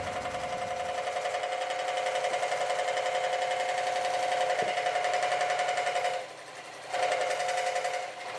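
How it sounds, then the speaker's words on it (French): A scroll saw cutting Boulle marquetry buzzes steadily and loudly with a fast, even reciprocating rattle, pausing briefly near the end before starting up again. "c'est la scie à chantourner qui donne le rythme"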